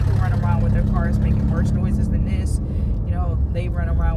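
A noisy car engine drones with a loud, steady low rumble throughout, while someone talks over it.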